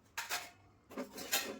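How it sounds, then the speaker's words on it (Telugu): Bowls and vessels washed the night before are put away, making two short bursts of quiet clinking and clattering separated by a brief pause. "ఇంకా రాత్రి వాష్ చేసి పెట్టిన గిన్నెలు ఉన్నాయి, ఇవన్నీ సర్దేస్తున్నాను."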